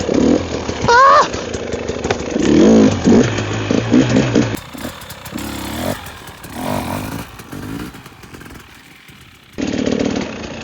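A studded-tire motorcycle revs repeatedly during slow wheelie practice in 17-degree snow, its engine rising and falling in short bursts, with a few brief stretches of speech between revs.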